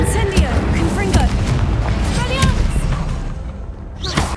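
A Confringo explosive spell in a wizarding video game set in a greenhouse, booming blasts and thuds mixed with whooshing spell effects, partly under talk.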